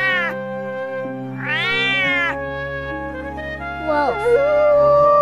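A cat meows several times, clear and close, with a tune playing softly underneath.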